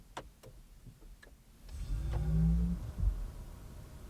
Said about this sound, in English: I wouldn't know that if it didn't make weird computer boot up noises